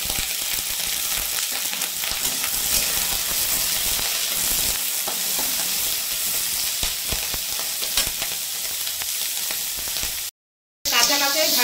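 Chicken liver and gizzard sizzle loudly in a little hot oil in a pan, a dense continuous frying hiss that cuts out briefly near the end before resuming.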